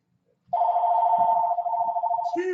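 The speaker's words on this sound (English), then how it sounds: "if my phone doesn't stop ringing, give it 2 more rings" A telephone rings loudly and close, a sustained warbling electronic ring lasting about two seconds after a moment of silence, with a few faint knocks beneath it.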